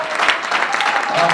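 Church congregation clapping during a fasting and prayer service, a short burst of loud, rapid applause with voices calling out over it.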